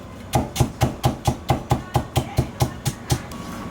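A knife mincing fresh ginger into fine shreds on a board, a steady run of about fourteen evenly spaced sharp chops, close and distinct with no talking.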